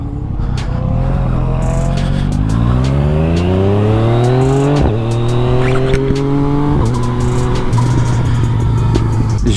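A small child-size motorcycle engine revs hard, climbing in pitch through several rising sweeps with sudden drops between gears, loud and close over a constant buzzy roar.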